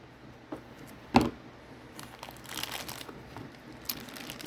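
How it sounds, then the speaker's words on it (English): Cardboard box packaging for a MidTen 2 MOA red dot optic being opened: a sharp crunch near the start, then soft crinkling and rustling of cardboard and wrapping, close and fairly quiet. "So, let's open the box and see what you got here."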